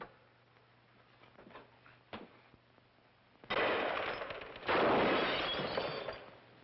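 Gunshots fired at a ghost in a 1948 supernatural noir film: a few faint sharp cracks early on, then loud sustained bursts of noisy, muffled old-film gunfire.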